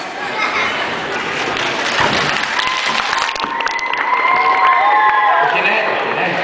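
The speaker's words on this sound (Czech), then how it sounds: "musíme, ano, poslat potlesk" Audience applause for a dance performance, steady clapping mixed with cheers and high-pitched whoops and children's shouts rising over the crowd.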